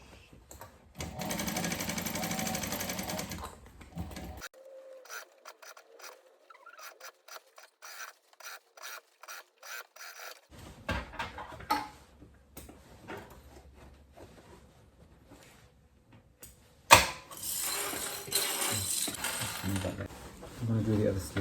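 A sewing machine stitching a sleeve onto thick fabric at reduced thread tension, running in close bursts of rapid mechanical chatter separated by quiet pauses, with a louder run near the start and another near the end.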